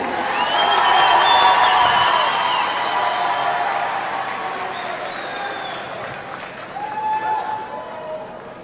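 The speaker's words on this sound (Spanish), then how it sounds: "Fuerte los aplausos para cada una de ellas." Loud audience applause and cheering for contestants at a Guatemalan beauty pageant coronation, sustained crowd clapping with whistles and shouts rising and fading, swelling again near the end.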